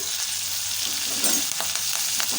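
Grated ginger, finely chopped green chilies and curry leaves frying in hot oil for tempering, a steady close sizzle with occasional crackles and stirring clinks, no voices.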